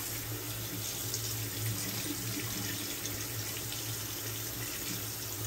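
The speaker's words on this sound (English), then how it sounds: "Let me go ahead and rinse my gear off here." Water runs steadily from a bathroom tap as shaving gear is rinsed under it, a continuous close hiss and splash with no talking.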